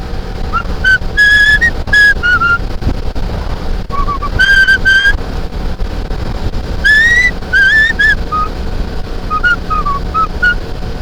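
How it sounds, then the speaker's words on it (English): A person whistles a melody in bright phrases with short pauses, close and loud over a low rumbling background. "I'll whistle the main line here"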